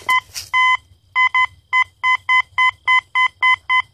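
A Fisher F75 LTD metal detector sounds a repeated electronic signal tone, about a dozen loud, evenly spaced beeps, some doubled, after a brief rustle at the start.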